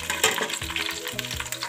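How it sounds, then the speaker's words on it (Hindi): Whole spices, including cumin, crackle briefly in hot oil for a pea pulao, with a few quick pops and stirring scrapes over a short, close sizzle. "इन्हें हम बस जस्ट कुछ ही सेकंड भूनेंगे"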